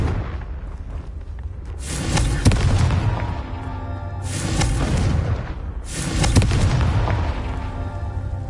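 Three heavy booming blasts of the Confringo fire spell in Hogwarts Legacy, each a loud, rumbling burst with a crackling tail, spaced a couple of seconds apart over low ambient rumble.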